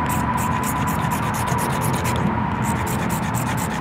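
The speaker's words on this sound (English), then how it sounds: "all I'm doing is I'm gonna try and scrape off some shavings." A small blade's toothed edge scrapes shavings off a magnesium fire starter, producing a steady, close, gritty rasp with quick rhythmic strokes that runs continuously, with no talk.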